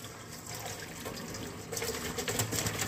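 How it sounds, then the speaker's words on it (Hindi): Boiled macaroni water drains through a strainer in a steady, hissing gush of liquid that swells louder in the second half, close by, with no talking. "यहाँ पे मैंने एक छन्नी रखी है, इसमें मैं मैक्रोनी को छान लूंगी।"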